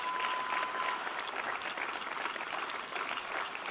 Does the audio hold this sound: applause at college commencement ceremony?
yes